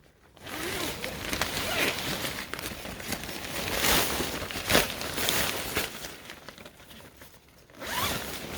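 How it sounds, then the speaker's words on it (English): A zipper drawn along a fabric Christmas tree cover in rasping, uneven strokes, close by and fairly soft, with some rustling of cloth. "Has a zipper."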